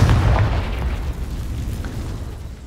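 In a video game, a Confringo blast spell hits with a deep, close boom at the start and then a rumbling tail that fades over the next couple of seconds.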